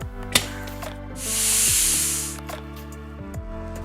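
Pressure cooker with chicken pieces in water vents a single sustained steam hiss lasting about a second, rising and fading, over a steady hum with a few faint clicks, no voices.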